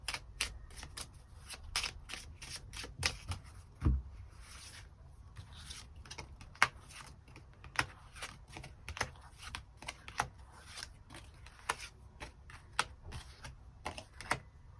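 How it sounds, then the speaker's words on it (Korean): Tarot cards shuffled by hand, a steady run of soft, quick riffling and slapping card sounds close by, irregular but continuous, with no talking. "카드 뽑아보도록 하겠습니다."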